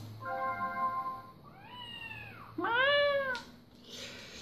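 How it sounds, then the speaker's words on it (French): In the intro of the video game Chameleon Twist 2, a cat gives two distinct meows, a drawn-out one and then a louder, sharper one, over a soft musical tone and a quiet background. "J'aime bien le petit chat au début, je vais vous le laisser là."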